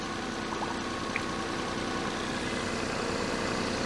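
A Daihatsu Charade's engine, freshly swapped, runs at a steady idle with a constant low rumble that fills the whole clip, close and unbroken.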